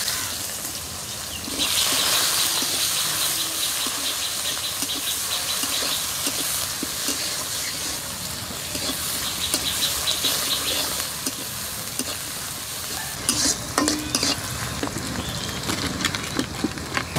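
Bay leaf, whole cumin, whole garam masala and chopped onion go into oil left from frying potatoes for a duck egg curry, giving a steady hissing sizzle that flares up, with a few faint stirring clicks near the end, no talking.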